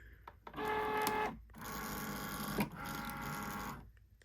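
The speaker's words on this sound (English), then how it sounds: "this button is to load and unload the machine. So I need to load the machine" Cricut cutting machine loading a sheet of vinyl, a steady mechanical whir of rollers and motor running in two stretches separated by a brief pause, close and fairly quiet with small clicks.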